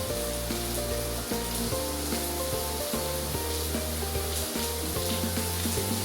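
Garlic and onions fry in a pan with a soft, steady sizzle and occasional light stirring scrapes, heard close and alone at a modest level.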